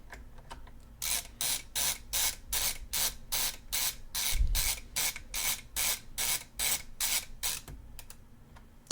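An LTT ratcheting screwdriver being turned, giving a steady run of about twenty evenly spaced, crisp ratchet clicks at close range, with no talking.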